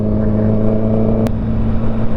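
A Honda CB650R motorcycle engine hums steadily while riding at dusk, a loud, even, close-up drone with a faint brief click partway through and no talking.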